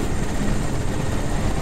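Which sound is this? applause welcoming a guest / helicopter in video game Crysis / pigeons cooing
helicopter in video game Crysis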